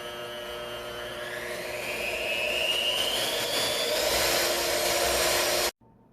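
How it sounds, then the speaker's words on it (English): Electric mixer beating applesauce spice cake batter on high speed, a loud, steady motor whine that rises slightly in pitch as it speeds up, runs continuously close by, then cuts off abruptly near the end. "bump it up and mix it on a high speed for about 2 to 3 minutes until the batter looks really well dissolved"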